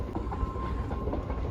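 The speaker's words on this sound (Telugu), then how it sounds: "చూడండి ట్రైన్ వస్తుంది ఇప్పుడే." A train rolls past close by in the countryside, a dense, loud rumble with a clattering rhythm of wheels on rails filling the whole brief moment.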